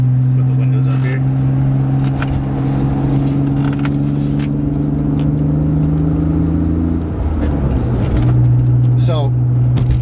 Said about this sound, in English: So, the car actually has no muffler. You wanted the car louder? Chop the muffler off.